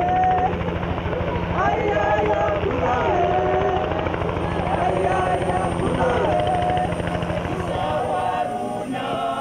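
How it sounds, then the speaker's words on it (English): A helicopter flies over the Okavango Delta, its rotor throbbing loud and steady throughout while voices talk over the engine. "Chopper"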